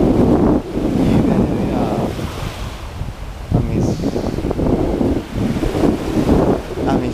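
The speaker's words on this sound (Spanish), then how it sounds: "esta es la maravillosa playa, una maravillosa puesta de sol que tengo el placer de disfrutar" Surf washes onto a beach at sunset in rolling surges, close and loud, with heavy wind buffeting the microphone throughout.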